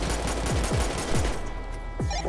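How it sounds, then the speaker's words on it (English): Video game gunfire in GTA 5 during a police patrol, a rapid burst of close, loud shots in quick succession followed by a pause and one more shot, with no talk. "Dispatch, shots fired"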